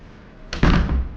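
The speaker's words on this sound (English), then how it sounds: "So yeah, let's close the door." A door in a villa near Bengaluru swings shut, a short swish followed by a solid thud, close and fairly loud.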